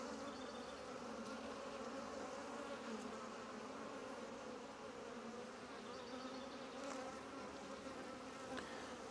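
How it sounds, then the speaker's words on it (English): An open honeybee hive is inspected while a bee emerges from its brood cell; the colony gives a steady, dense, even buzz close to the microphone throughout. "Right there you can see a bee emerge. She's coming out of the cell right there."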